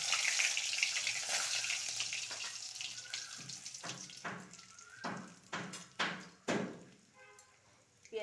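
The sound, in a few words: bay leaf and spices sizzling in hot oil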